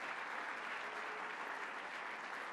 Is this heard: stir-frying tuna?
no